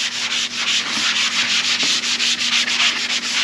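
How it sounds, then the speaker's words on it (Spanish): Steady rhythmic rubbing of sandpaper on wood by hand, back-and-forth strokes repeating quickly and evenly, close by. "Entonces lijamos todos."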